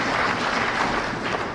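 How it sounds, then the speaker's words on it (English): An audience at a Kenyan gathering for Baba claps continuously in a brief, dense burst, steady and fairly loud, with no voices rising above the clapping. "Let's give them a clap again."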